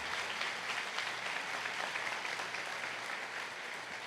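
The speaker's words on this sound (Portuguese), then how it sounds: "Você aplaude o nome de Jesus uma vez?" A church congregation at an evangelical Quadrangular service breaks into sustained, even applause that fills the room at a steady level for several seconds, with no one speaking over it.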